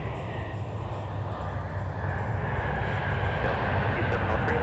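A Delta airliner takes off at MSP airport, its engines a steady, dense roar that holds loud and unbroken from start to finish.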